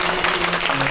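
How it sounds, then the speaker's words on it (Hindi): An audience at a Hindu devotional religious discourse claps together, a loud, dense burst of applause under a sustained musical drone, heard briefly and up close. "दो ताली बजा अगर आनंद आ रहा है तो"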